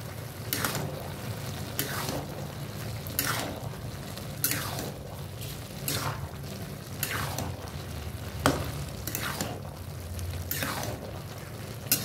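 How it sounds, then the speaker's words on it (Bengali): Ground cumin, turmeric and coriander powder frying in a pan under a steady sizzle, punctuated by about ten sharp, evenly spaced scraping strokes of a spoon stirring the masala, close and clear, no talking. "ভালো করে মশলাটা মিশিয়ে নেব"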